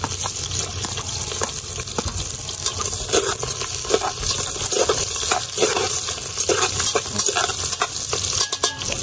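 Garlic frying in a pan for balbacua, a steady bright sizzle and crackle running continuously at close range with occasional stirring clinks, no voices over it.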